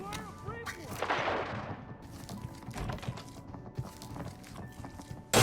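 Gunfire in the mobile tactical shooter Arena Breakout: several sharp shots and bursts spread across the span over a busy game soundscape with other effects, moderately loud and no talking.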